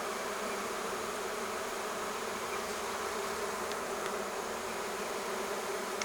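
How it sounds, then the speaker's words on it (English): A thick, steady drone of honeybees swirls close around a beekeeper at an open hive, with a few faint ticks over the unbroken buzzing. "I have a bee swarming around my head."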